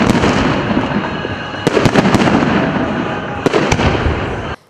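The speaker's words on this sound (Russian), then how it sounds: "На несколько минут небо над Анапой раскрасилось залпами салютов в честь Дня защитника Отечества." Celebratory fireworks salute over Anapa for Defender of the Fatherland Day: a dense continuous crackle and roar of bursts with several sharper loud bangs standing out, ending abruptly.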